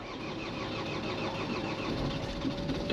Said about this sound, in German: Ich bin gespannt, ob der Wagen überhaupt anspringt.